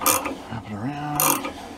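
A nut is tightened on the alternator pulley of a VW Type 1 engine, heard as a few short close ratcheting and metallic scraping bursts with a faint tonal whine between them.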